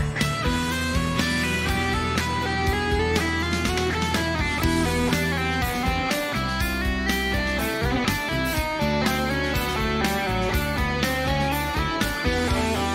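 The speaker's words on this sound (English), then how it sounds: "This time we'll do some chromatic scales, which might sound like this." Guitar running chromatic scales in a live lesson setting, a steady stream of quick single notes stepping through the scale without pause, played clearly and alone for the whole stretch.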